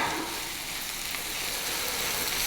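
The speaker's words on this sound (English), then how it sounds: "Give it a quick stir." Food sizzling steadily in a Dutch oven on a Kamado grill alongside a sirloin roast with potatoes and carrots, a soft, even frying hiss with faint stirring, heard close and without speech.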